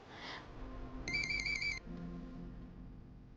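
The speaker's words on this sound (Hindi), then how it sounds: "थैंक गॉड, बेल तो जा रही है।" A phone rings once, a bright, warbling electronic tone lasting under a second over faint background noise.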